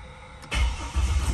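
A Ford BF XR6 with the Barra straight-six engine cranking briefly, then catching and firing into a rumbling idle, close and loud with no voices.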